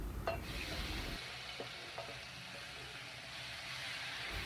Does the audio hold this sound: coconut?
yes